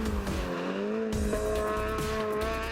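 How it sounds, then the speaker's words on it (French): A Volkswagen Golf GTI race car at a hill climb in Guadeloupe screams past with a loud, rising and falling engine note, gear changes and a brief tire squeal, close and steady throughout. "Marc Roche, au volant de sa Golf, une GTI, voiture devenue de plus en plus rare, s'empare de la 8e position."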